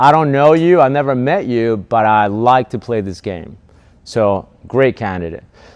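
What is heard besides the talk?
None of the usual background noises is heard.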